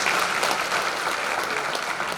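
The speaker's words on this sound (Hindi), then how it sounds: "So एक बार ताली बजाइए मैम." Audience applause fills a corporate fireside chat hall, a dense steady wash of many hands clapping at even loudness for a couple of seconds with no voices over it.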